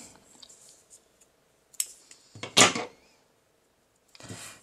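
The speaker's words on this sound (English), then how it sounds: "now we can fasten off and cut the yarn" Scissors snip through crochet yarn while fastening off a three-coloured crochet tablecloth, a short crisp cut near the middle preceded by light handling rustles and followed by a brief scrape, close and alone without talk.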